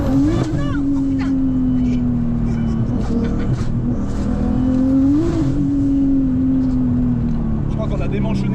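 A 1,200 hp Golf R32 engine with a disconnected exhaust holds a loud, steady drone that swells into two revs, close and continuous, with people talking over it.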